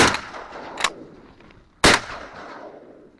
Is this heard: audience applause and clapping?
no